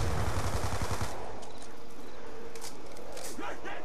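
Automatic gunfire rattles in quick bursts as zombies are gunned down in a survival video game, loudest at the start and then thinning into scattered shots, with someone talking over it.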